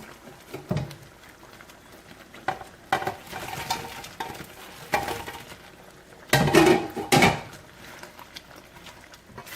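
Chicken pieces tossed and stirred into a thick orange sauce in a pan for Panda Express–style orange chicken, giving intermittent scraping clatter and soft wet stirring with a few louder bursts of utensil on pan.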